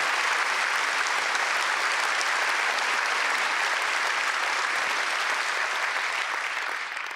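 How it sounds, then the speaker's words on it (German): Dense, sustained applause from a large audience at an expert panel talk, loud and steady throughout and fading slightly at the end, with no speech over it. "Applaus"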